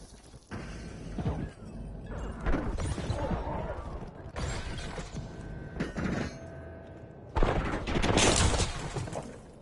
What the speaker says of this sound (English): we're going to actually just go ahead and do a scatter bomb